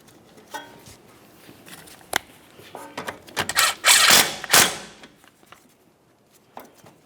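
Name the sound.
tightening a 12mm bolt on a brake flex hose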